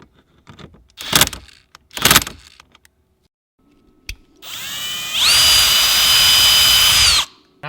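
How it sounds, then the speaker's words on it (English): A power drill bores a hole for a roof rack support bracket on a vehicle, whining up to a loud, steady high-pitched spin for about two seconds after a few sharp knocks and handling clatters. "So we need to drill that now."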